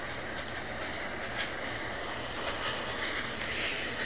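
A train sound effect accompanies a story about a runaway dinosaur train nearing a broken trestle, heard as a continuous rumbling roar of moving rail cars, moderately loud and steady, with no talk over it.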